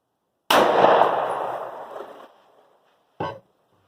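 A 9mm pistol with a 3.7-inch SIG barrel fires Koenig 110-grain defense ammunition into a row of water jugs outdoors. One sharp, loud report rings out and fades, then a shorter, fainter crack follows about three seconds later.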